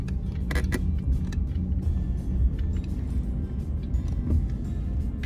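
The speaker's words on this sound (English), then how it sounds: "there's a car behind you." A car drives along the road close behind, its steady low engine and tyre rumble filling the clip with a few brief rattles on top and no voices.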